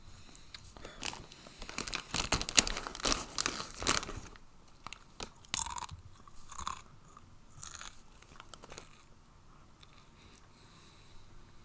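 Crunchy chips being bitten and chewed close up, loud crisp crunches clustered in the first few seconds, then sparser crackling bites and chewing with pauses, no talking.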